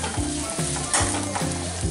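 Onions, cinnamon and cloves sauteing in hot oil for a chicken masala make a steady, close sizzle and crackle, with periodic scraping strokes of stirring, and no talking.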